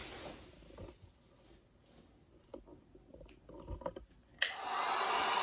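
Quiet handling and light knocks come first as a van's vinyl wall panel is worked on, then a heat gun suddenly switches on with a loud, steady airy blow held to the end.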